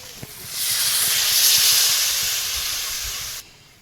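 Water poured into a hot pan of fried fish curry bursts into loud sizzling hiss that swells, holds steady for a few seconds, then cuts off abruptly, with faint kitchen clatter underneath.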